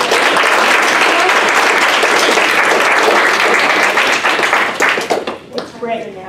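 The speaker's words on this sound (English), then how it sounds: "a round of applause for all of our presenters and for you guys" An audience gives a loud, sustained round of applause for presenters, dense clapping that fades toward the end as a voice begins speaking.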